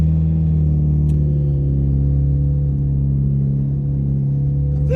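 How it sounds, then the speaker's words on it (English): A car engine on its stock ECU runs while stopped, given a little gas: a loud, close, steady low rumble that holds evenly, with only a slight rise near the end and no talking. "I'm stopped and trying to give it a little bit of gas."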